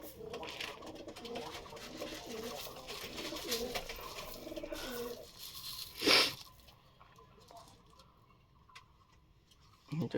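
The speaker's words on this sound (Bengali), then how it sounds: "এই দেখো পায়রাগুলো ঝাপাঝাপি করছে" Pigeons being fed at home, cooing and fluttering in a busy jumble, with a brief loud burst of flapping wings partway through, then quieter calls.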